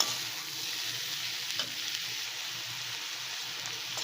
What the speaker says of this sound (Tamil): கேப்சிகமும் கண்டிப்பாக க்ரன்ச்சியாக தான் வதக்கணும், ரொம்ப வேக விடக்கூடாது.